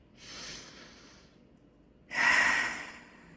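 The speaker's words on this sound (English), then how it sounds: "take a deep breath with me" A soft breath in followed by a louder, longer breath out, close to the listener, airy and unhurried with a brief pause between them.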